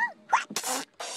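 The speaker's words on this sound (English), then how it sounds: "What a lot of Tomblyboo sneezes." A Tombliboo character from the children's show In the Night Garden gives a short, close sneeze, a quick breathy burst with a sharp release, alone and without talk.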